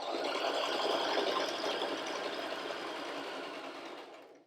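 A sewing machine stitches quilt fabric in a steady, continuous whir that fades out as it slows near the end.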